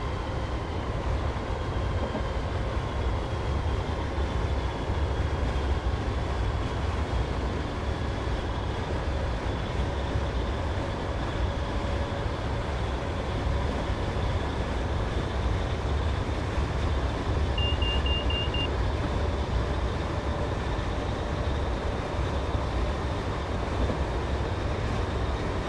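Class 320 electric train running in Train Simulator 2015, coasting with power idled on the route from Glasgow Central to Lanark: a loud continuous cab rumble and wheel-on-rail roar with a faint steady whine, no talk.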